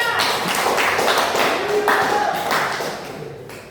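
Classroom applause for a student group of three during a Quran recitation lesson, a brisk burst of many hands clapping close by with a few voices over it, fading toward the end.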